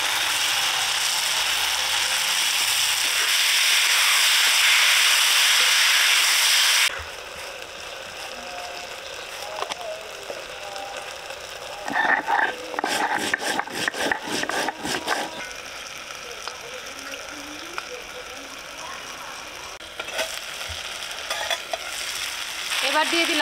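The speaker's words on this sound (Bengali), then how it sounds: "এবার টমেটো পেঁয়াজ কুচি দিয়ে দিব" Potatoes frying as tomatoes and chopped onion go into the pan for a small-fish chorchori: loud steady sizzle at first, then a quieter hiss broken by bursts of scraping and stirring against the pan, with no talking.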